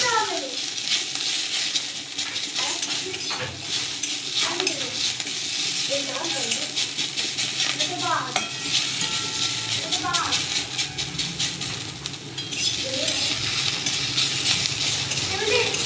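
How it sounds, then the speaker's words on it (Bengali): Coriander leaves fry in a hot wok for a radish-greens bharta, giving a continuous loud sizzle broken by repeated scraping and clinking strokes as they are stirred. "ধনে পাতাটাকে 2-1 মিনিট একটু ভেজে নেব"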